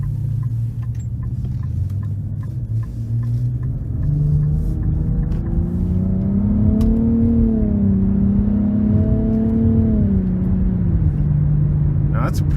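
A 2023 Nissan Rogue with a turbocharged three-cylinder, in sport mode, pulls hard out of a corner, heard from inside the cabin. Its engine note climbs steadily in pitch over several seconds, loud and continuous over low road rumble.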